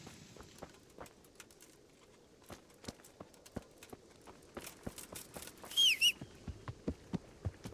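Horse hooves walk at a steady, regular clip-clop pace in the medieval game Kingdom Come: Deliverance, fairly close and moderately loud. A brief higher chirp cuts in near the end.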